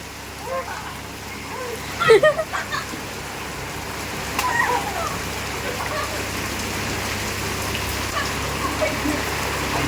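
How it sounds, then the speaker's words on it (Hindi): Steady rain hisses throughout, with a few brief clatters and knocks near the start and occasional louder splashes. "काफ़ी तेज़ बारिश हुई"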